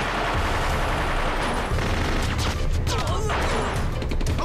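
Continuous gunfire volley from an action film, a dense rattle of shots and crashes running throughout with shouting voices mixed in.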